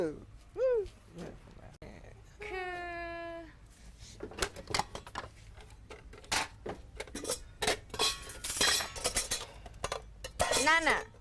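An empty rice pot and dishes clatter in a series of close, sharp clinks and knocks, with people talking and exclaiming over and between the clatter.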